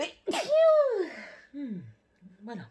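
A single sharp sneeze bursts out near the start, close and loud, followed by a few short spoken words.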